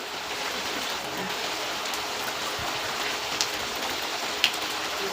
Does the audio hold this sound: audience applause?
no